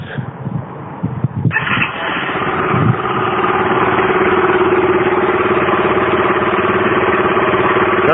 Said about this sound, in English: Next thing is to do is to start up the engine.